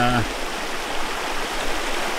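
Very cold water pours steadily into a washing setup for laundry, a short rushing stream that stays even and fairly close.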